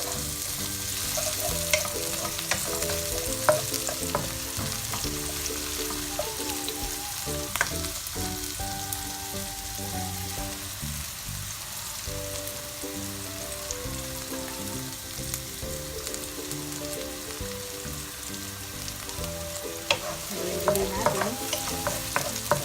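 Chopped white onion and garlic fry and sizzle in a pan for pork mechado, with a steady crackle broken by occasional stirring scrapes, close and continuous.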